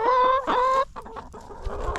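Chickens on a farm clucking and squawking up close, a few loud calls followed by softer scattered clucks.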